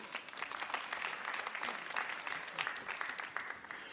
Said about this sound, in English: Round of applause for Ash.